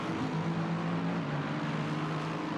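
GT3 race cars pulling into the pit lane at Spa during an endurance round, a steady droning engine hum with low tonal exhaust notes that runs unbroken, somewhat distant, with no talk over it.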